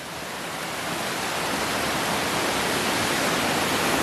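Konoko Falls in Ocho Rios, Jamaica, is a steady, full-bodied roar of rushing water that swells slightly over a few seconds, loud and close, with no voices over it.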